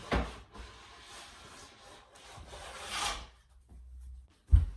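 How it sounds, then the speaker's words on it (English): A plastic scraper drags firmly across a freshly waxed snowboard base, giving several rough rubbing strokes close by, with a sharp knock at the end. "you just want to push down and really scrape all that out."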